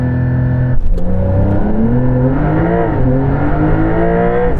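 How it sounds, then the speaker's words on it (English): A lowered Porsche 911 GT3 accelerates hard from a standstill in a 0 to 60 run, its engine note climbing loudly and close, with a brief gear-change dip early on before the revs rise again. "I'm going to try just one more 0 to 60 because I've lowered the car"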